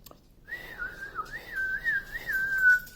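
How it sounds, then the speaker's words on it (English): A person whistles one clear sustained tune, wavering and sliding in pitch with a gentle vibrato, close and alone for about two and a half seconds. "can you whistle?"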